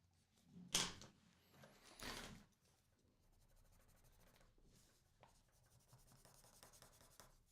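A white pencil drawing on paper, with soft scratchy strokes and a couple of louder scrapes early on, then a quiet, continuous rubbing and sketching close up, with no talk.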